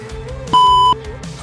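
A running fitness test gives a single clear electronic beep of about half a second, ringing out over faint background noise.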